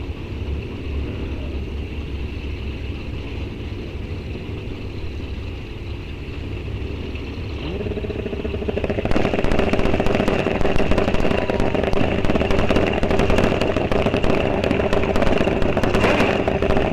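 An extended-swing-arm drag racing motorcycle idles with a rumbling engine at Rock Falls Raceway, then its roar rises sharply to a loud, raspy, crackling rev that holds steady to the end.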